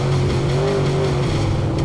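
Dirt track race car engine roaring loud and steady at high revs, a continuous close drone with a slight pitch rise and fall, no talking over it.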